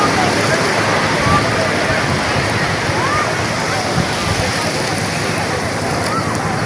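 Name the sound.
sea waves roaring at Cox's Bazar beach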